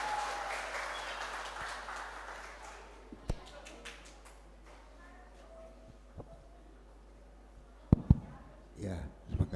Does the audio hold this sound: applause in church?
yes